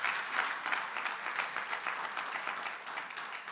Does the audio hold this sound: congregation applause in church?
yes